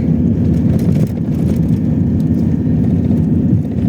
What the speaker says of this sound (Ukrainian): А тепер їдемо до гори.